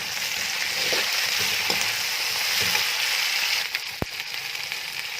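Tomatoes and green chilies frying in a pan for moong dal, a steady loud sizzle with occasional stirring scrapes and a sharp clack near the end, no voices.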